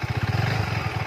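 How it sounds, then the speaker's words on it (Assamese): A motorbike engine runs steadily on a road ride to Moran, a close, loud rhythmic putter with fast regular pulses and no talk over it. "এতিয়া যাওঁ, এতিয়া বাইকখনত উঠি লওঁ।"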